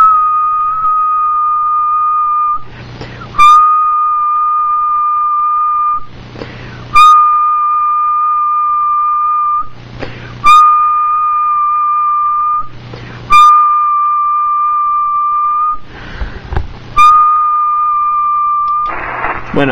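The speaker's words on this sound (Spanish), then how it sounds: "utilizaríamos el micrófono y bueno, un pequeño silbido siempre mejor" A steady whistled tone feeds through the microphone of a Kenwood TS-830S radio in long held notes, broken by several short bursts of noise in a repeating pattern.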